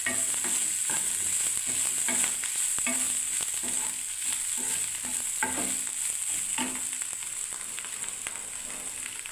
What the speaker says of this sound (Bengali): ফুলকপিটা ভালোভাবে ভাজছে, আর যে টুকরো টুকরো করে ছোট্ট ছোট্ট আলু